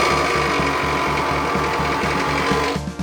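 A worn 2004 Toyota RAV4 engine with 300,000 km idles close up, producing a loud, rapid, regular ticking knock over a steady mechanical drone that drops off at the end.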